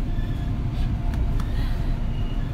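Constant low rumble and rolling drone of a fast train heard from inside a carriage, steady throughout, with faint higher squeals and no clear talking.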